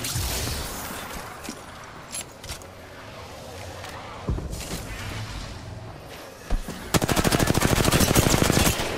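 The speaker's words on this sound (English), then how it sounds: "Can you stop shooting at me, brother?" Rapid automatic gunfire in the shooter game Apex Legends, with scattered single shots and bursts early on, then a sustained loud stream of fast, evenly spaced rounds toward the end.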